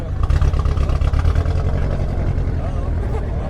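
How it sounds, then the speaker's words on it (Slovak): A car engine at an exhaust decibel measurement at Poprad airport rumbles with a deep, throbbing burble like a boxer engine, loud and close, holding a steady low drone. "Miestami to znie ako boxer motor."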